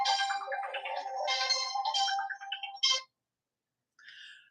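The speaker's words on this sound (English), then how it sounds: "Oh, look, now she's calling on the other phone." A phone rings with an incoming call, a loud electronic ringtone melody playing for about three seconds, then a short pause before a fainter burst of ringing resumes.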